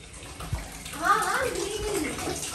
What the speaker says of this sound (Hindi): ग्रीन लाइट से मतलब ये चालू हो चुका है और रेड लाइट से गर्म पानी निकल रहा है